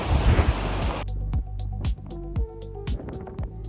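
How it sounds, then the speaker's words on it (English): Aboard the Regal Princess cruise ship on a windy day, a loud rush of wind and surf opens the recording and then cuts off abruptly, leaving quieter scattered thumps and bumps. "Last day on the cruise is a windy one. The waves are getting a little bit rough."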